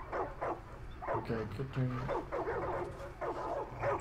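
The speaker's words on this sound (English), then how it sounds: "They're just dogs." Dogs barking and yipping in Far Cry 5, several sharp barks near and mid-distance, partly under people talking.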